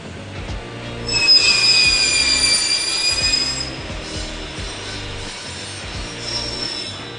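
A glass-cutting machine lets out a shrill, steady squeal over rhythmic low thumping, loud and close, then eases back to a grinding hum.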